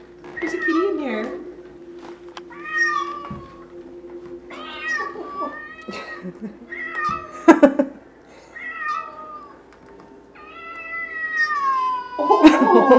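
A small kitten meows again and again in high, wavering cries, close by, while a child and an adult talk softly over and between the calls.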